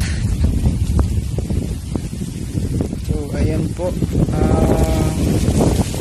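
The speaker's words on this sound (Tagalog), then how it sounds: "grabe yung hangin dito habagat" Strong monsoon wind gusts across an open farm, a loud low roar buffeting the microphone throughout, with sheep or goats bleating nearby and someone speaking over it.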